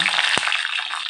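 Dried red chillies hit hot oil while tempering kuzhambu, a brief bright crackling sizzle with a sharp pop partway through, close and short.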